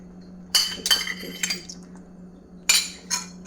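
Metal spoon clinking against a pan or bowl while yogurt is added to masala for butter chicken, a few sharp separate taps in a quick cluster followed by two more after a pause, close and clear over a low hum.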